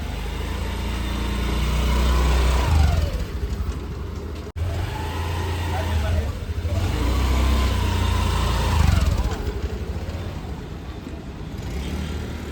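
A car on a dealership trial drive revs its engine in two long rising and falling surges, loud and close, with a brief cut between them and no voices over it.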